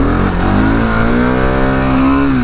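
A 701 big bore dual sport motorcycle engine revs hard and steadily, a loud close rasping drone whose pitch climbs slightly then holds for a couple of seconds.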